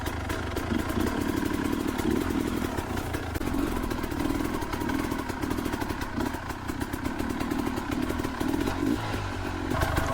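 An MPX X-320 enduro motorcycle grinds along a muddy mountain trail in first gear, its engine a steady, close, unbroken drone with rattling clatter and no pauses.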